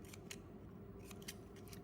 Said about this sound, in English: Take my scissors and snip